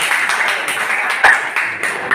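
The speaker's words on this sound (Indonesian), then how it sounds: "Oke, tepuk tangan." Classroom applause from students after a group presentation, a dense patter of many hands clapping steadily and fairly close for a couple of seconds.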